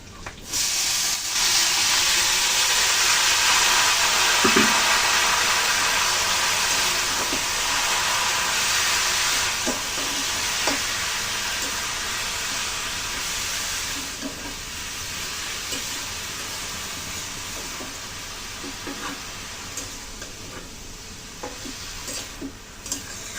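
Boiled cabbage frying in a hot pan, a loud continuous sizzle and hiss that fades slightly over time, with occasional faint stirring knocks.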